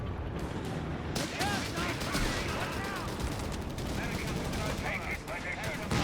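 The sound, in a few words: infantry gunfire in the video game Company of Heroes 3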